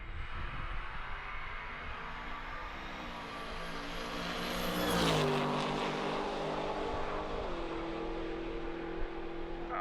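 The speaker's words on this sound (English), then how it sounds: "That whine you're hearing, that's the cog drive." A 6.2 LSA supercharged Chevy Nova drag car sits at a drag racing event with its cog drive whining, a loud jet-like engine hum that swells and sweeps in pitch near the middle, then settles into a steady drone.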